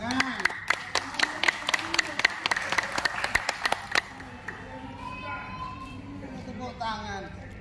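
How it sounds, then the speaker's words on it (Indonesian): Scattered clapping from an audience at a meeting about revitalising a market, sharp claps for about four seconds that then fade into crowd chatter and children's voices. "Tepuk tangan."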